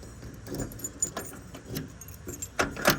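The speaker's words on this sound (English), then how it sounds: "So you have to use your key to lock the door." Keys jangle and clink against the door lock of a 1963 Ford F250 pickup, several close metallic rattles and scrapes in quick irregular bursts over a few seconds.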